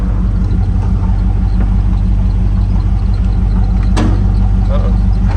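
A 1964 Chevrolet Impala with drum brakes rolls along, its engine and road rumble a steady loud drone throughout, with a brief sharp clatter near the end.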